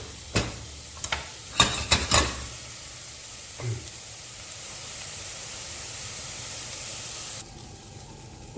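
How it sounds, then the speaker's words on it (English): Shallots cooking down in a pan for a red wine sauce give a steady hiss and sizzle, opened by a few sharp clatters and stirring knocks before the frying settles into a constant, fairly close spray. "So we just need to cook those shallots down a little bit."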